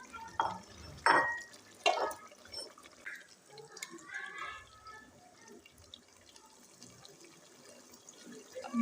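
Water is poured into a pot of chicken and potato curry in a home kitchen and stirred, making a few splashy pours followed by softer sloshing and scraping.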